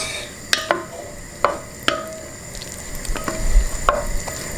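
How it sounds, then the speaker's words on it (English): Peas and smoked bacon in a pot over high heat are stirred with a utensil: sharp scraping knocks against the pot land every half second or so over a continuous close sizzle, with no voices. "I'm gonna stir this a little bit."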